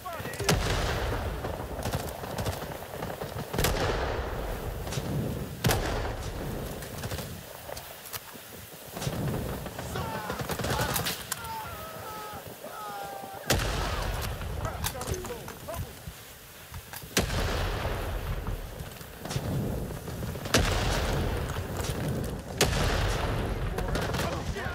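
Gunfire from the video game Rising Storm 2 during an attacking campaign battle on Highway 14: repeated sharp shots and bursts crack at irregular intervals, near and far, under frequent voices.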